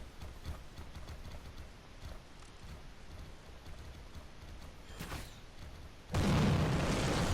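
A castle wall being breached in the Disney Infinity video game, a sudden loud explosive burst that breaks in late after a stretch of quiet rumbling and clattering, then stays loud to the end.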